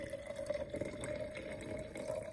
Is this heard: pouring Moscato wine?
yes